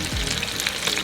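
Onions, steak and fat fry together on a hot griddle, giving a dense, steady sizzle with crackling spatter, close and fairly loud, heard briefly without talk.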